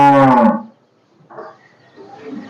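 A Friesian cow that calved that day, on a dairy farm, gives one short, loud moo up close, followed by quieter rustling and faint background noise.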